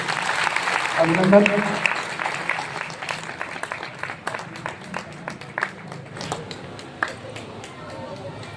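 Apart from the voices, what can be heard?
audience applause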